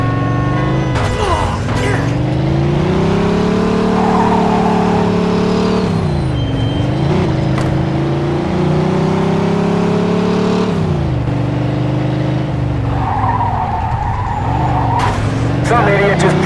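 Mafia 2 driving: a car engine roars and revs steadily while tyres squeal and skid, with several sudden impact thuds from a collision scattered through. Voices speak over the engine noise.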